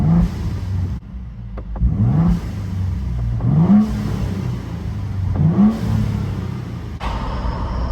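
A Ford Bronco Raptor fitted with an S&B cold air intake revs repeatedly with the windows down, each blip rising into a throaty roar before falling back to idle, loud and close from inside the cabin.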